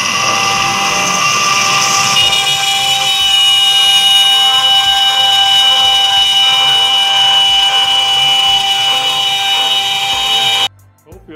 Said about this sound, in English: I'm going to cut to earlier when I milled the spindle clamp so you can compare the sounds.